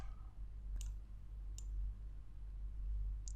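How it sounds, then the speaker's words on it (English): Mouse clicks in a Corel Draw design session, sharp and close, with a quick pair near one second, another near 1.6 seconds and a final click near the end, over a steady low hum. "double click on the endpoint to close"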